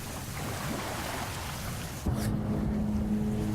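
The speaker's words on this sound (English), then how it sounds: "It's dark and stormy." Stormy weather at sea in the video game That Dragon, Cancer: a steady, dense roar of wind and water that swells slightly louder partway through, with a low tonal hum entering, continuous and without talk.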